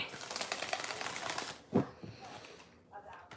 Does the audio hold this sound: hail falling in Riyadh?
no